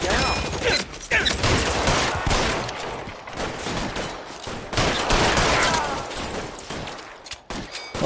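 Gunfire rattles through a shootout in the video game L.A. Noire, with dense bursts of shots and impacts coming in waves, loud and close, with a few gaps between volleys.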